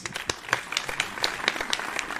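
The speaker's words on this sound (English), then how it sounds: "Round of applause." A brief round of applause from a small group, with scattered hand claps rising and falling over a couple of seconds at moderate loudness.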